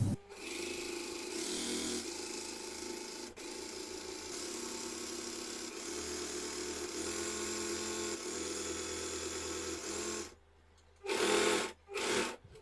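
A sewing machine runs in a long steady stretch as it stitches along a fabric border that has just been ironed stiff, with a few sharp stops and restarts near the end. Nobody speaks.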